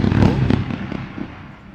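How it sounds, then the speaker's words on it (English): A brief burst of fireworks sound effect, crackling pops and a muffled boom that fades within two seconds, played as a celebration. "Fireworks time, celebration time."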